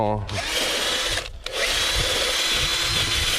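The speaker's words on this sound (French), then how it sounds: "je vais avec la brosse métallique nettoyer un petit peu tout ça là" A wire brush scrubs rust off a lawn mower in a harsh, continuous rasping scrape, with one brief pause, close and loud.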